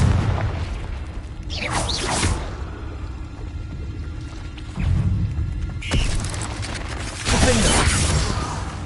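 Confringo explosive spells from Hogwarts Legacy, several booming blasts with shattering crashes and rumbling debris, loud and repeated across the span over game background noise.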